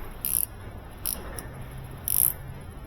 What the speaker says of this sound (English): we'll get our wrench right here